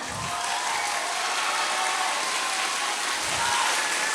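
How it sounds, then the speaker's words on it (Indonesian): A team of students claps together at a school orientation event, a dense, sustained crowd applause that holds at an even level the whole time, like heavy rain. "Timnya Dev, silakan tepuk tangan."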